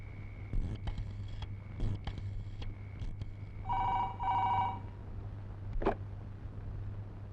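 A telephone rings in repeated short bursts against a steady low hum, the tone clear and fairly close, with no voices over it.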